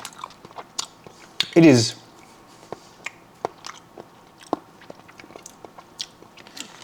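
Someone bites into a stick of salted butter with one loud close bite, then chews with soft, wet, irregular clicks while a voice briefly speaks.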